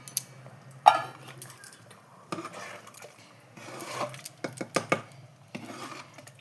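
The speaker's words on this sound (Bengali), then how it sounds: "এবার ঝোলটা দিয়ে আমরা নাড়িয়ে দিলাম তরকাটাকে।" A spoon scrapes and clinks against a pan while a vegetable curry with gravy is stirred, giving irregular close rubbing strokes and a few sharper metallic knocks.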